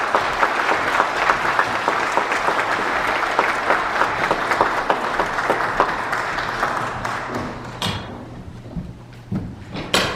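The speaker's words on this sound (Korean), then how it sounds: "모두 공주영 마리아 작가님을 큰 박수로 환영해 주시기 바랍니다" Sustained audience applause welcoming author Gong Ji-young to a Lent faith lecture, steady dense clapping for about eight seconds before thinning out into a few scattered claps at the end.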